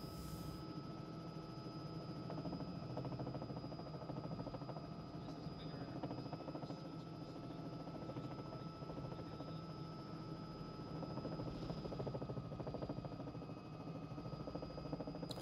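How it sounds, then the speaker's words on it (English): A Robinson R66 helicopter descends into a confined landing area, its rotor thrum and turbine whine steady and continuous, heard from close by with no speech. "a confined area landing in a Robinson R66 helicopter"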